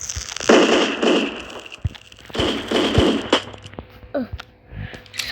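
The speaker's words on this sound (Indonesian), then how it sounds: "Ih, di pipinya ada petasan." Firecrackers bursting in a video game, sounding as several loud crackling blasts in quick succession, each followed by fizzing debris, with sharper isolated pops toward the end and no talk over them.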